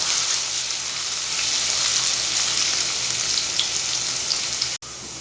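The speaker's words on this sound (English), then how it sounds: "Now we'll add the chopped chili, ginger and garlic. We'll saute it for 1 minute." Chopped chili, ginger and garlic fry in oil in a pan, a dense continuous hiss of sizzling with faint occasional stirring, close and loud, cutting off briefly near the end.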